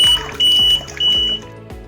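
An IoT aquarium water-monitoring system's buzzer alarm sounds in three loud, sustained high beeps over about two seconds, with short gaps between them and faint clicks underneath, no talking.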